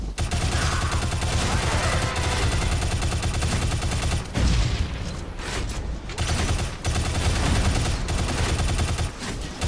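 Dense, continuous gunfire from the shooter game Shadow Complex, loud and close, with rapid bursts running almost nonstop and a short dip in the middle.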